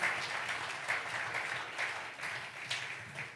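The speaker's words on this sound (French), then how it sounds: "amen as we clap for the Lord." A church congregation at a special Sunday service claps together in a continuous, fairly faint wash of applause with gentle swells, and no voices stand out.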